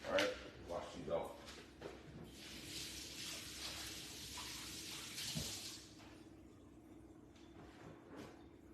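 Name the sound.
washing Scotch bonnet peppers under running tap water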